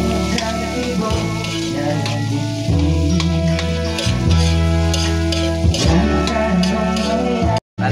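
Garlic and onion sautéing in a hot pan, a loud steady sizzle broken by stirring scrapes and clanks of the utensil against the pan, with a short silent break near the end.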